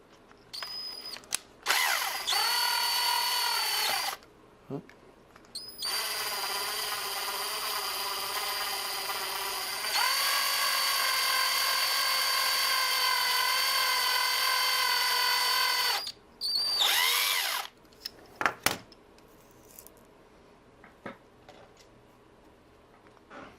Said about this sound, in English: you might want to take an even larger drill bit